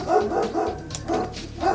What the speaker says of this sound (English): Oh, and here goes the dog.